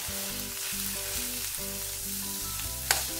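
Chopped carrot and spring onion sautéing in a pan for spicy vegetable masala Maggi noodles, giving a steady close sizzle alongside a rhythmic low repeating tone, with one brief sharp clink near the end.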